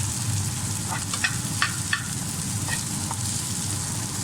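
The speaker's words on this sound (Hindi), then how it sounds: "ये भिंडी और प्याज हमारी तल गई है।" Okra and onion frying in a pan, a steady close sizzle with a few light stirring clinks and scrapes, and no voices.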